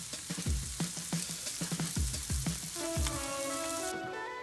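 Vegetables and pork sizzle and crackle on a grill, a close, continuous fizz broken by repeated popping spatters, with no talking.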